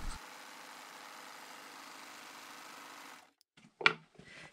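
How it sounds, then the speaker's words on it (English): A serger sewing machine runs steadily at an even hum while gathering knit fabric, then stops abruptly, followed by a brief clack and light handling noise. "I don't even change the foot on my serger. So now I'm going to put my fabric through it"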